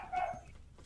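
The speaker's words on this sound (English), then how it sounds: "That dog's going off, bro." A dog barking indoors at someone outside, one short bark or yip that is fairly near, over low room noise.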